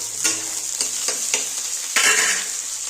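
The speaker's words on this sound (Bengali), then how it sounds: "তেলটা গরম হয়ে গেছে। আমি এবার পেঁয়াজ, কাঁচা লঙ্কা, দেখো এবার আমি বেগুনগুলোও দিয়ে দিলাম।" Eggplant, onion and green chilli fry in hot oil, a loud close sizzle punctuated by repeated scraping stirs of a spatula against the pan, roughly every quarter second, with no voice.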